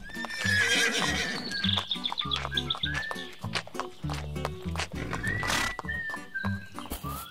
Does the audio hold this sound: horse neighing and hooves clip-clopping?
yes